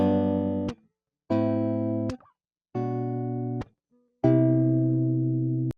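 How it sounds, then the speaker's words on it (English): Four clean guitar chords recorded direct into an audio interface, each strummed and held about a second, then cut off, with short silences between them; dry and direct, no other sounds. "plugging it directly into my interface, recorded 4 chords. They don't sound very good because, again, we're just recording direct."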